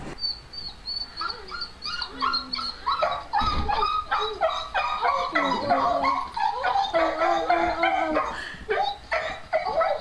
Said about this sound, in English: The dogs look so excited.